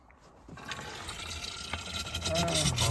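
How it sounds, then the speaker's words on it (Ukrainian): Antifreeze gurgles and splashes as it is poured into the cooling system of a car, likely a Volkswagen Golf IV, after a thermostat change, the liquid filling sound growing louder and fuller toward the end. "Заливаємо вже антифриз"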